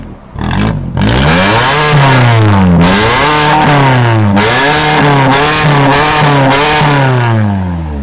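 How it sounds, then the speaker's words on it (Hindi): A car's exhaust snarls through repeated hard revs, the engine climbing and dropping in quick rising and falling sweeps for several seconds, very loud and close, with no talking. "एक बार भाई बैठ के एग्जॉस्ट जरूर सुनाइए हमारे भाइयों को"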